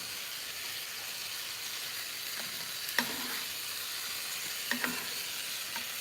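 Shrimp teriyaki sizzling steadily in a pan as it is stirred, with a continuous frying hiss and a few brief scraping clinks from the utensil.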